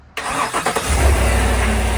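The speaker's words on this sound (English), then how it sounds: "I run to start my car," Car engine cranking and catching after a jump start from a portable battery booster, a brief churning start that settles into a steady low idle, close by.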